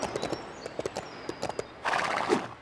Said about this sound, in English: You best respect my horse.